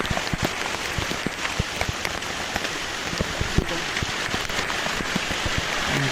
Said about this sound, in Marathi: आणि खूप पाऊस चालू होता